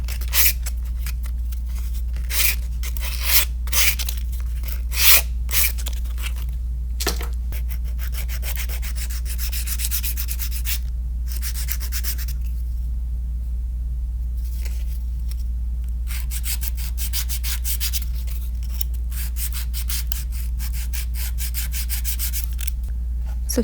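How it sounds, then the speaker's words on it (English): Zebra hand file rasping back and forth as it is seasoned and worked over polygel nails, a steady close scratching with bursts of quicker strokes throughout, no talking. "I do need to season my hand file so it doesn't cut me."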